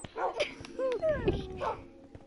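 Minecraft dogs barking, yipping and whimpering while chasing a skeleton down a cave, several short excited calls and whines in quick bursts, close and fairly loud, with a voice talking over them.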